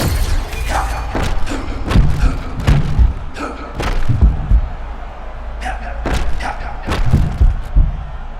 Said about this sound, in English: he lands another strike to the body